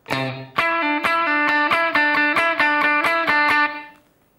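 A heavily distorted electric guitar chugs through a quick riff of repeated picked notes, then lets the last one ring out and fade.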